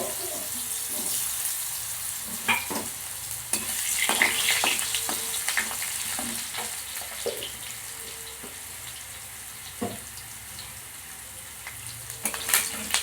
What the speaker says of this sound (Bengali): আলুগুলো আমি একটু হালকা করে ভেজে নেব